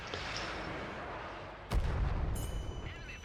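A missile shot in World of Tanks on the World War II map El Alamein, a single heavy booming blast that cuts sharply through a steady low rumble, followed by a lingering roar.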